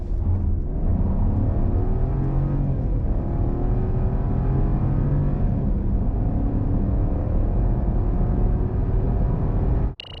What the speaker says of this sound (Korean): 실제 발진 가속 성능 얼마나 나왔는지 확인해 볼까요?